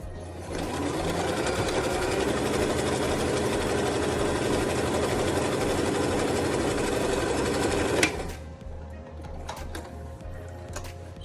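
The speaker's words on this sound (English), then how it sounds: "you're gonna sew this seam right here" A sewing machine stitches a seam on a fabric nose wire mask, running steadily and loudly for about eight seconds before stopping abruptly, followed by a few faint handling clicks in a quieter room.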